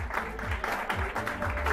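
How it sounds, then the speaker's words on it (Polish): A short stretch of steady clapping from a crowd at a commemorative medal ceremony, dense and continuous, with some muffled voices mixed in. "Jeszcze poczekajcie chwilę, żeby każdy dostał porcję oklasków."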